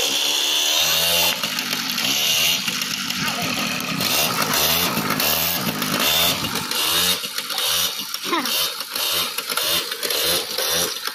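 A BMW engine being started up runs loud and close, with a continuous rough, buzzing drone that pulses unevenly from start to finish.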